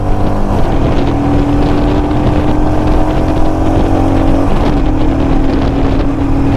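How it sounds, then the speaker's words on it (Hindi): A car at about 80 km/h jerks and surges, its engine drone steady and loud under heavy wind and road rush with a brief dip midway, no talk. "देखो झटका खा रही है गाड़ी, झटका खा रही है गाड़ी।"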